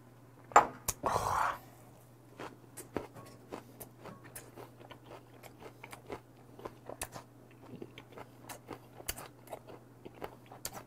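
Crisp crunching bites and steady close chewing of conger eel sashimi with crunchy raw onion, a rapid run of sharp crackly clicks over a low background hum.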